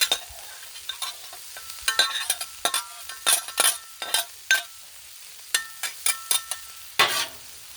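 Half an onion frying on a Blackstone griddle sizzles steadily while a metal spatula scrapes and taps repeatedly in an irregular rhythm, close and fairly loud.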